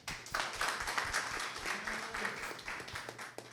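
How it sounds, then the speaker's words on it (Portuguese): A talk audience claps for a participant named Juliano at a conference lecture, a moderate, slightly uneven round of many hands clapping with distinct slaps, fairly faint and without talk over it. "Palmas para Juliano, por favor."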